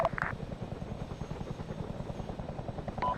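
A helicopter in the ARMA 3 video game rotor-thumps steadily after landing and taxiing at an air base, a continuous rhythmic chop with faint brief beeps at the start and end.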